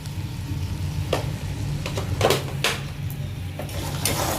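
Broccoli stirred in a hot pan with a splash of water and salt, a steady close sizzle with a few scraping clinks of the spoon against the pan.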